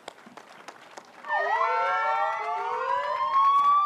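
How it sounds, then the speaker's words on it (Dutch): Several sirens start wailing together after a second of faint clatter, their overlapping tones sweeping steadily and loudly until the end. "loeiden de sirenes"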